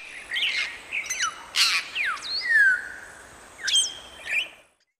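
An African grey parrot gives a run of sharp whistles, rising and falling chirps and squawky notes in quick irregular bursts, fairly loud and close, with no voices.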